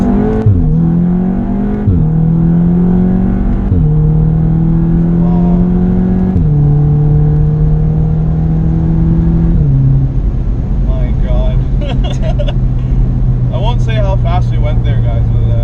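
A Stage 2 Volkswagen Golf R with about 400 hp accelerates hard at full throttle from around 30, its engine note climbing through several quick upshifts, each marked by a sudden drop in pitch, loud from inside the cabin with people talking over it.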